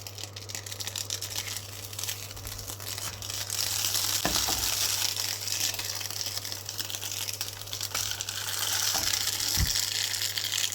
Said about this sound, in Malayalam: ഇത് ചൂടായി വരുന്നുണ്ട് നമുക്ക് ഓരോ മീനും നമുക്കിതിലേക്ക് ഇട്ട് കൊടുക്കാം